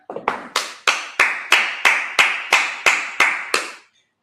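A congregation at a Sabbath service claps in unison, about eleven sharp, evenly spaced group claps over four seconds, each with a short room tail, and then it goes quiet.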